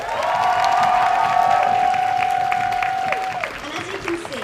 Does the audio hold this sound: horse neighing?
no